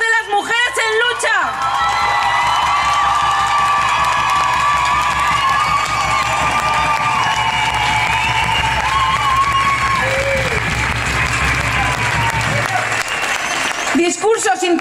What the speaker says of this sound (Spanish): se oyen los gritos de las mujeres en lucha